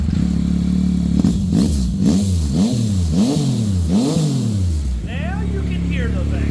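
A 2024 Yamaha XSR900 motorcycle with a Yoshimura exhaust and air filter fires up and revs hard several times in a row, loud and close, then settles back to a rumbling idle.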